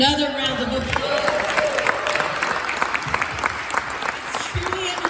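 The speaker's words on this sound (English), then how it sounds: "Another round of applause." A crowd at a public evening event in New York applauds continuously, dense clapping sustained throughout with some cheering mixed in, fairly loud and close.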